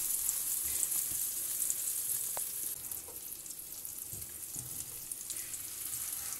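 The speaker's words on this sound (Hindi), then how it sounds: "एक मैं ऐसे फ्राई करूँगी" A sandwich fries in a pan with a steady, close hiss of sizzling fat, with a few faint clinks and stirring sounds and no talk.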